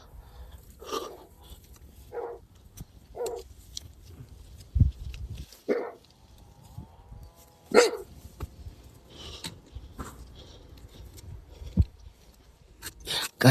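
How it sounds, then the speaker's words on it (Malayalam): Several dogs bark in short, separate bursts at a snowy roadside in Manali, some near and loud, others farther off. The barks come irregularly over steady low background noise, with faint extra sounds in between. "ആ പട്ടികളുകൊണ്ടൊന്നും മര്യാദക്ക് ആസ്വദിക്കാൻ പറ്റുന്നില്ല. അവിടെ നിന്ന് കുരക്കുക"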